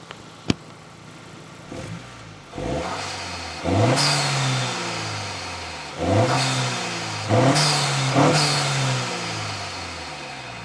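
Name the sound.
car engine revving with short ram intake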